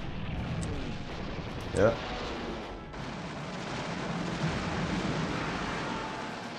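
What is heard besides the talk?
artillery bombardment in video game Panzer General II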